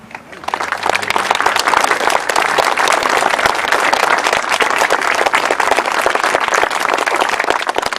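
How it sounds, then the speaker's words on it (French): An audience breaks into sustained applause at a gathering in Lussac-les-Églises, many hands clapping in a dense, even patter that starts abruptly and holds steady and fairly loud throughout. "on pourrait les applaudir"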